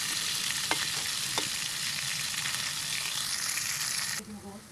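Food sizzles steadily in a hot frying pan, a dense close crackle with a couple of brief stirring scrapes, dropping away quickly near the end.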